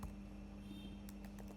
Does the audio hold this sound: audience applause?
no